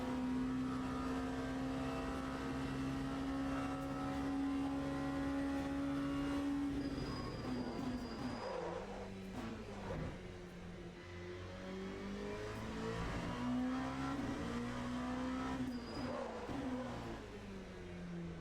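An LMP2 prototype race car in the Le Mans Ultimate sim screams at steady high revs, then drops through downshifts and braking with revs rising and falling again, loud and continuous with no talk.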